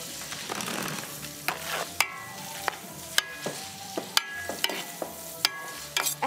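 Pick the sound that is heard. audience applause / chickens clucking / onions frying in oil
onions frying in oil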